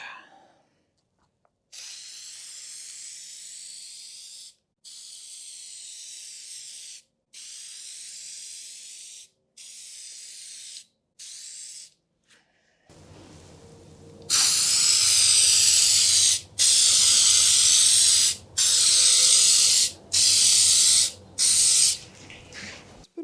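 A second clear coat is sprayed onto restored headlights of a 2008 Hyundai Tiburon in a series of steady hissing bursts with short pauses between them, quieter at first and then much louder and closer.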